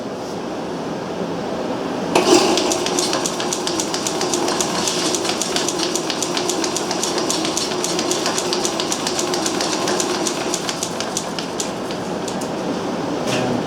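A Garvin lathe starts up and runs steadily in a workshop with a constant mechanical whir and a rapid rhythmic clicking, heard close and alone at moderate level.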